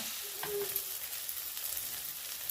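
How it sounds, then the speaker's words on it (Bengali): Chopped green tomatoes frying in a pan with turmeric and salt, a steady close hiss and crackle of sizzling oil throughout with faint stirring. "যে টমেটোগুলো কেটে রেখেছিলাম সেগুলো আমি ভেজে নেব কিছুটা পরিমাণ হলুদ দিয়ে দেবো কিছুটা পরিমাণ লবণ দিয়ে দেবো এটাকে আমি ভেজে নেব"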